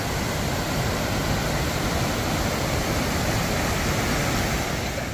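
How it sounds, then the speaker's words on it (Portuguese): Rushing water from Cachoeira do Urubu in Primavera, Pernambuco, swollen after heavy rains, pours as a dense, steady roar, loud and unbroken, with no voices. "Essa é outra cachoeira. Cachoeira do convento."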